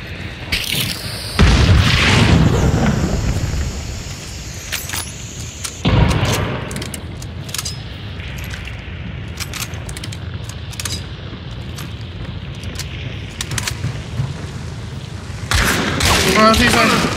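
Video game gunfire and explosions burst out as loud booms near 1.5 and 6 seconds and again near the end, with scattered sharp shots crackling in between.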